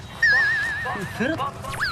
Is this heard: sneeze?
no